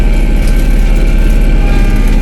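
Iseki SF370 ride-on mower with a 72-inch cutting deck, its engine held at high revs in a loud, steady, close-up drone with a deep low rumble and no pauses.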